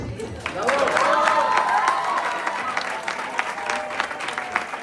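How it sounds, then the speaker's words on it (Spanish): Audience applause after a conference lecture, dense clapping swelling quickly then thinning into scattered claps, with some voices mixed in. "pedimos un fuerte aplauso al doctor Carlos Ochoa García"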